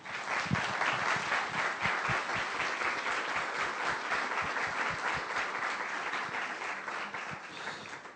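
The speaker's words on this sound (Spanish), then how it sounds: "les pediría nuevamente un aplauso para el doctor Rubio" Sustained applause from a large audience at an international panel discussion, steady and dense throughout with no talking.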